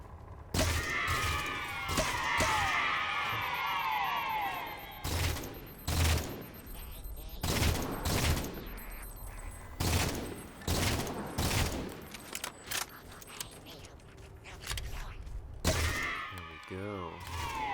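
Sharp beam rifle shots and other gunfire crack repeatedly in Halo 4, arriving in irregular bursts amid whooshing energy effects and mechanical game sounds, loud and close throughout.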